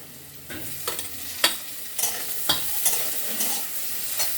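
Potatoes with tomato and green chili fry in a pan, with a spatula scraping and stirring in a steady rhythm of distinct strokes over a soft, constant sizzle, close and clear with no talking.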